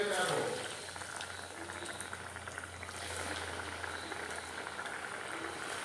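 Hot oil bubbling steadily in a pan on a medium flame before egg snacks go in, a continuous close fizzing boil with no breaks and a brief louder stir at the start.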